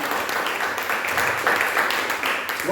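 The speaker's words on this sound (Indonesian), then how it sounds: "Tepuk tangan dong." A church congregation claps during a sermon, a brief burst of many hands applauding at moderate loudness, with a voice speaking faintly underneath toward the end.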